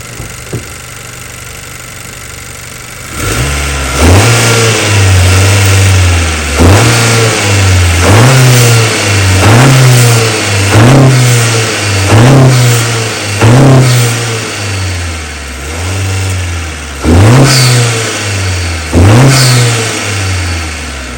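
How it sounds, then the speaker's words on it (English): A 1.5T Honda Accord turbo engine fitted with a PRL cold air intake, revved in sport mode: after a quiet start, loud repeated revs rise and fall in a steady rhythm, close up, with no talking. "I'm gonna let you guys hear it revving it up in sports"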